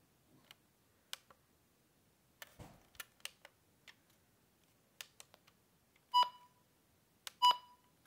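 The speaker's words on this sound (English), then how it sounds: "Button beeps." Maxx Digital weather radio gives sharp, isolated button clicks and several short electronic beeps, two of them longer tones, spaced irregularly in a quiet room.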